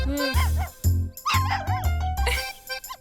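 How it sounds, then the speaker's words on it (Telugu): A puppy barks and yips repeatedly in short, high-pitched bursts, some with a whimpering edge, close and loud with no talking. "కుక్క పిల్ల."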